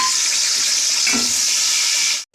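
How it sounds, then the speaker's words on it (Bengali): Steady, bright sizzling of bay leaf, cashews and raisins frying in hot ghee, with a brief stirring scrape midway before it cuts off. "আমি তেজপাতা দিলাম আর একটু কাজু কিশমিশ দিয়ে ভাজবো"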